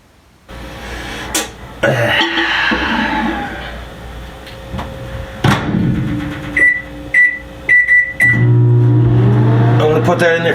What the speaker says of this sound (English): We're going to microwave it.